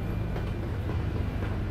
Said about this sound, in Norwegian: Jeg hører tog der det går her.